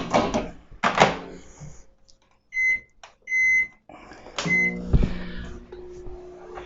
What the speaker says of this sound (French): faut au micro-ondes 7 minutes